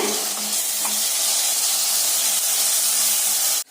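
Curd and masala sautéing in oil in a pan for kovakkai (ivy gourd) biryani, giving a steady, close sizzle with bubbling hiss that holds level throughout and cuts off abruptly at the end, with no talk.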